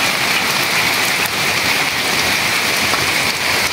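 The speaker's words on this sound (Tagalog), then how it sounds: "Ayan po at nag-uumpisa na pong umulan dito." Steady heavy typhoon rain pouring down, a dense continuous hiss with no pauses and no voices.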